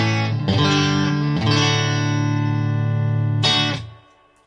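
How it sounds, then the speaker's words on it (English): An electric guitar plays a few sustained, bright chords through a Victory amp with reverb, each ringing out with a reverberant tail before fading. "I've got a little bit of reverb coming from the Victory"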